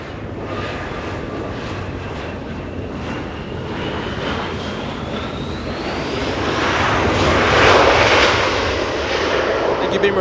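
A Korean Air Boeing 747-8 jet at Los Angeles International Airport produces a broad, steady roar with a thin sliding whine, swelling louder toward a peak near the end before easing slightly.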